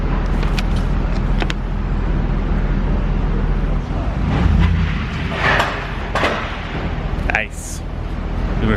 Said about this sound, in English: It's the first time this truck's ever been off-road.